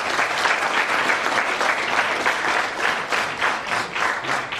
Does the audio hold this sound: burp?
no